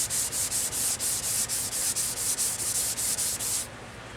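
Sandpaper rubbed by hand along the grain of a turned wooden piece, a close, rhythmic rasping with about a dozen even back-and-forth strokes that stop suddenly near the end.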